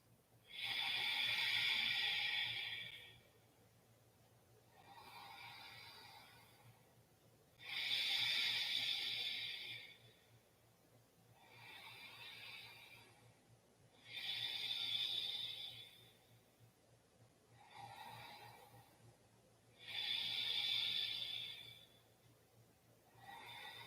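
Slow, deep breaths during a yoga practice, drawn in and let out in a steady rhythm of about five long, hissing cycles, close and fairly soft with no talking.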